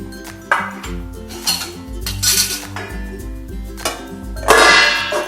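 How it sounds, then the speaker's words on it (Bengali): Lid lifted off a cooking pot on a gas stove while bhetki fish cooks with potatoes and cauliflower, a string of metallic clinks and clatters over a low rumbling hum, close and fairly loud. "দেখুন বন্ধুরা আমি ঢাকাটা খুলছি"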